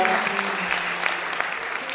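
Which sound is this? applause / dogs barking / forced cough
applause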